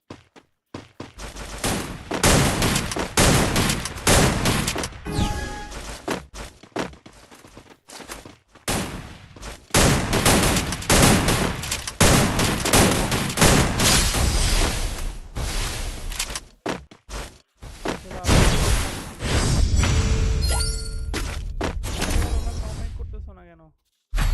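Sniper shots and rapid gunfire from the mobile shooter game Free Fire during a ranked match, with dense, loud bursts of shooting almost throughout and a person talking over the action.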